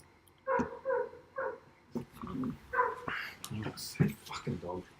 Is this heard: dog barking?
yes